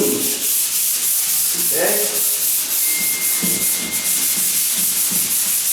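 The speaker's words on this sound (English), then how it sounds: "I like to generally sand up and down, but at the edge I may have to go like that" A door being hand-sanded with sandpaper before painting gives a steady, continuous scratchy rubbing, close and fairly loud, with a brief spoken word partway through.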